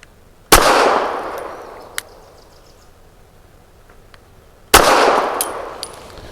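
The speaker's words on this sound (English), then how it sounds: "But it's fun to shoot sometimes in a pistol." Two sharp, loud pistol shots from a Sig P365 XXL fitted with a Maskas Precision slide and barrel, firing heavy subsonic rounds, spaced about four seconds apart, each with a ringing decay and a faint metallic clink between.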